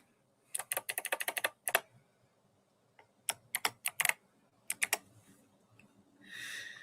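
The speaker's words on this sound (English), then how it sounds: "I should probably type in that." Bursts of rapid computer-keyboard typing in a quiet room, several quick runs of clicks separated by pauses, ending with a brief soft hiss.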